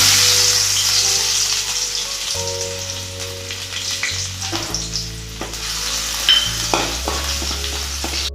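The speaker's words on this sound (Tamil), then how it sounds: "நம்ம போட்ட பூண்டெல்லாம் நல்லா சவுண்டு வந்துடுச்சு" Garlic sizzles and crackles loudly in a hot pan, a steady frying hiss with occasional stirring scrapes, heard close with no voices.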